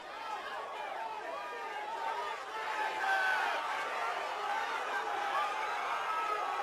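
A crowd at an amateur MMA bout, Aries 30, murmurs and shouts in a continuous wash of voices, swelling gradually louder partway through as tension builds around the fight.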